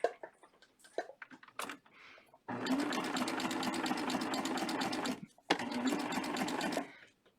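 A serger stitches binding onto soft minky fabric, its motor whirring in a steady rapid rattle for several seconds, pausing briefly, then running again. Faint handling noises come before it starts.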